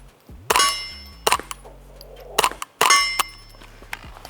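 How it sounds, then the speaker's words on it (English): Suppressed rifle shots ring off a steel target outdoors, three sharp metallic clangs with lingering ring, spaced about a second or more apart, loud and close, with no talking. "I'm gonna shoot some steel though this time so I can make sure I'm hitting."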